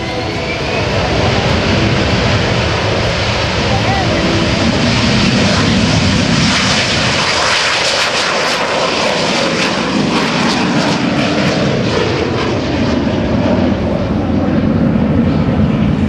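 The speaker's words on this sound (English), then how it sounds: "you just saw a very, very special airplane take off" A loud, sustained jet airplane roar at an air show takeoff that swells and holds steady for the whole stretch, with no voices.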